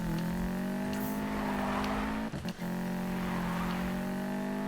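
A steady, droning Subaru WRX STI engine with unequal-length headers in a racing video game holds a constant pitch with a brief dip midway, like a rally car cruising, loud and continuous with no voices.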